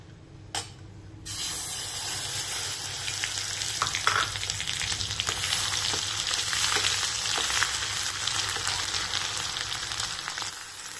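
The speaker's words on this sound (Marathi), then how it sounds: "कांद्याची पेस्ट आणि टोमॅटोची पेस्ट तळून झालेली आहे। तेल सुटायला लागलेलं आहे।" Onion and tomato paste frying in oil with whole spices for kaju paneer masala, a steady crackling sizzle that starts after a sharp clink and continues throughout, with scattered pops and occasional stirring.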